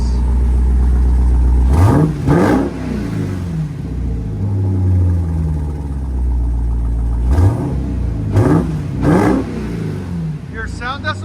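Supercharged 6.2L V8 in a Jeep Trackhawk with a Borla exhaust, blipped through two sharp revving bursts near 2 and 8 seconds over a loud, steady idle rumble, with brief voices toward the end.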